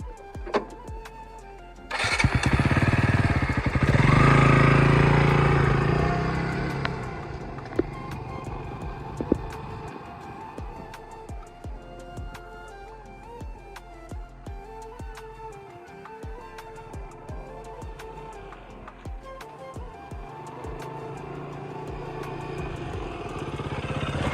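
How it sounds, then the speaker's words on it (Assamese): A modified KTM Duke 200 motorcycle cranks and fires up with a loud burst, then settles into a steady, nearby idle and running rumble with faint clatter. "বাইকখন চলাওঁতে কেনেকুৱা লাগে আপোনালোকক দেখুৱাইছোঁ ব্লগটোত"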